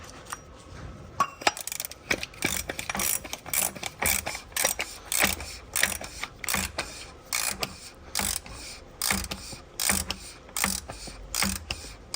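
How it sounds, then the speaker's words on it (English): A hand ratchet clicks steadily as it tightens the oil filter housing on a Volvo S80 V8, giving close, crisp bursts of rapid pawl clicks in regular strokes with short gaps between them. "Refit and tighten to 25 Newton meters."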